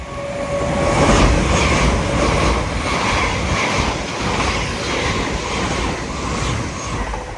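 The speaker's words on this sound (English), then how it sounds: "passing through now is an LNER Azuma en route from Edinburgh Waverley to London" An LNER Azuma passes through Alexandra Palace on the East Coast Main Line, a steady rolling rumble and rush of wheels on rail, close and fairly loud for several seconds with no voices.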